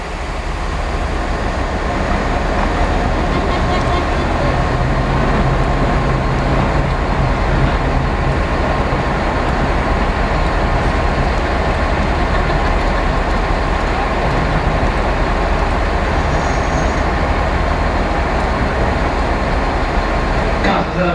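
Two Class 66 diesel locomotives stand at a railway station, giving a loud, steady, close engine rumble with ongoing station noise through the whole stretch. Faint speech is heard under it.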